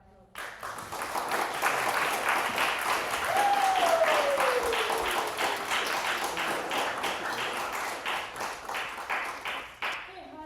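An audience applauds panelists at the close of a campus speaker-series event, with steady full clapping that rises quickly and then slowly tapers, and a short vocal cheer partway through.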